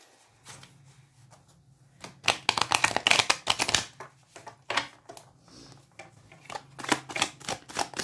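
A tarot card deck being shuffled up close, with a rapid series of crisp card riffles and flicks that swell into dense bursts and then ease into scattered slaps, over a faint low hum and with no talking.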